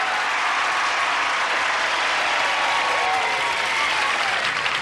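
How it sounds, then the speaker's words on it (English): Studio audience at a 1983 television game show gives a sustained, full round of applause, steady and dense throughout the whole span with no break. "why don't we ask this audience here to join us with a brisk round of applause"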